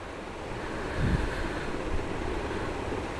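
Strong wind gusts steadily across the microphone on a high mountain road toward Leh in Ladakh, a broad continuous roar with no voices.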